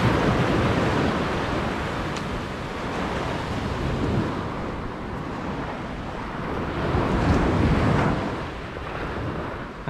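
Ocean waves roll onto a beach at a resort in Desaru, a loud continuous surf roar that swells and recedes in slow surges, roughened by wind buffeting the microphone, with no voices.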